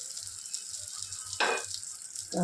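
Hilsa wrapped in bottle gourd leaves fries in a pan with a soft, steady sizzle that flares into a brief louder hiss partway through, close by and with no talk.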